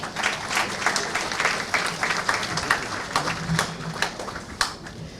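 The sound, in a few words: audience applause for health teams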